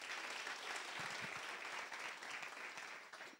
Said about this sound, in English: How about a round of applause for Joe and Deloitte?